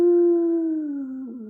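A human voice imitates a low wolf howl: one long, steady, low-pitched tone that slides slightly downward and wavers at the end, close and clear with no other sound.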